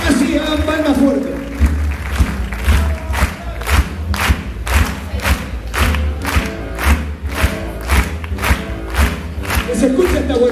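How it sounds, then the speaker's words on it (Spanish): A tango audience claps in time to La Trampera, a loud, regular beat of many hands over the music, with voices and crowd noise mixed in across the stretch. "Así, hagan palmas fuerte."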